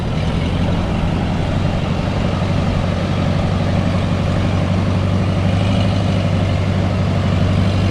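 A vehicle engine drags a fishing boat ashore with a heavy, low, constant idle-like rumble. The sound stays loud and close from start to finish and never changes much.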